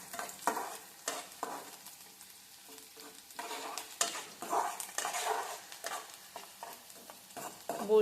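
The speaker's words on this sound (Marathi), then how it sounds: "शेगडीचे नट ते असे लूज आहेत ना त्यामुळे तो आवाज येतो." Metal rattling and clinking from loose nuts on a gas stove as food is stirred and fried in a pan, with irregular scraping clatter over a soft, steady sizzle, close and moderately loud.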